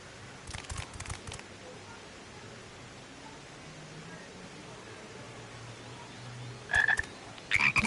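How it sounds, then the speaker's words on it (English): Frogs croak in the video game Final Fantasy XIV: Endwalker, short rhythmic clusters of croaks over a soft ambient hiss, with a speaking voice low in the mix. "Look at all these little frogs down here."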